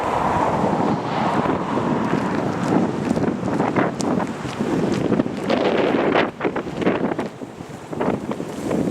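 Strong, steady wind buffets the microphone at an outdoor water recycling basin construction site in Los Angeles, a continuous loud roar with gusty swells throughout and no other distinct sounds.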